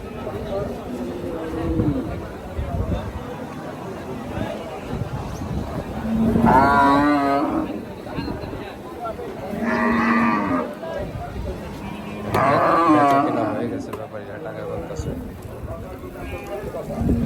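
Australian Friesian cattle at a busy village cattle market moo in three long, loud calls, over steady crowd chatter and someone talking.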